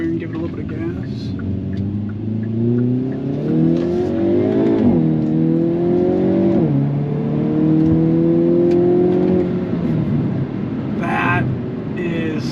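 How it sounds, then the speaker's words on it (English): A 2022 Hyundai Kona N accelerating, its engine note climbing through several rising sweeps with an audible shift and brief dip midway, loud and close from inside the car, with a person talking over it. "We'll come around here and give it a little bit of gas."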